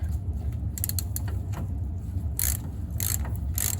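A ratchet with a 9/16 socket works a bolt loose on a Model A Ford, giving bursts of close, clicking pawl sounds over a steady low hum, with a few sharper clicks near the end.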